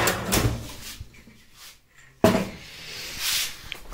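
A household door swings and shuts with a soft rustle, a quiet pause, then a sharp thump as it closes, followed by a brief sliding scrape, close by with no speech.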